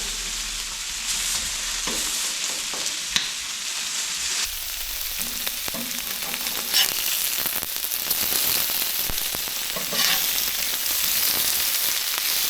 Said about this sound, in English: it's quite simple just to throw these little patties on the barbie